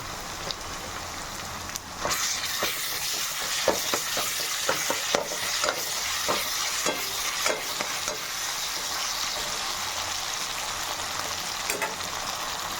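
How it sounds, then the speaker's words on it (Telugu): Ginger garlic paste fries in hot oil for a chicken curry, a steady close sizzle broken by repeated spoon-stirring scrapes across the pan, with no talking. "ఇప్పుడు అల్లం వెల్లుల్లి పేస్ట్ అయితే మనం వేసుకుందామండి"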